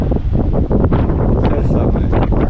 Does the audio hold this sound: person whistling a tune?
no